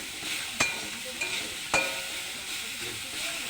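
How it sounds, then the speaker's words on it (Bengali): Flowers frying lightly in a pan with salt and turmeric give a steady soft sizzle, with a few stirring clicks and scrapes over it and no talk. "আমি নুন হলুদ দিয়ে ভেজে নিলাম, হালকা করে ভাজবো"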